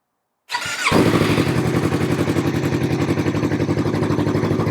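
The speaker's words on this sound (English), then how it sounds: "So let's start the bike and see what's going to happen next." A motorcycle fitted with an HM M3 dash fires up after a moment of silence, a brief starter whir catching into a loud, close engine that settles into a steady, rapidly pulsing idle.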